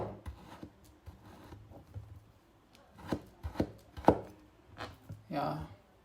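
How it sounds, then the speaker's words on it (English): An IKEA FÖRDUBBLA knife cuts food into smaller pieces on a board, giving soft scraping strokes and a few sharper chops that grow louder toward the end, with no one talking. "If you want to cut this into smaller pieces"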